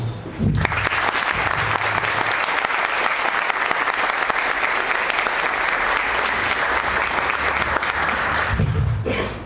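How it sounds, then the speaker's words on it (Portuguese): An audience applauds a woman being welcomed to give a lecture at a spiritist center, a loud, steady wash of clapping lasting about eight seconds that starts abruptly and fades out at the end. "Seja muito bem-vinda e para o acolhimento e o aplauso de todos."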